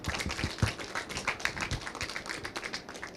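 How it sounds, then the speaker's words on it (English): A small audience at a panel discussion claps, sparse uneven hand claps fairly close and quiet, a handful of people rather than a full crowd. "please give a warm applause"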